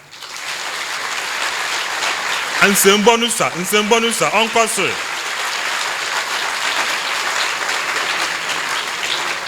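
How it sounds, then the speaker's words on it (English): Steady applause from an audience at an inaugural university lecture runs throughout, while a voice speaks briefly over it near the start. "Thank you for clapping for him."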